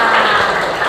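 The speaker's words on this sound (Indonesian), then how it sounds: "Oke, tepuk tangan untuk kita semua." A class of children breaks into a short burst of applause in a schoolroom, a dense, even wash of clapping that fills the whole second without a pause.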